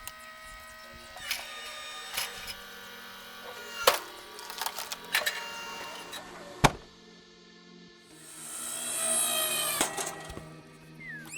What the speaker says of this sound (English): this powerful machine splits mixed wood effortlessly, making firewood prep a breeze